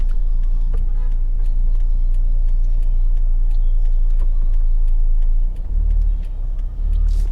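A car rolls through Mandeville town, Manchester, Jamaica in the early morning, its engine and road noise a steady, loud low rumble from inside the cabin, with faint ticking over it.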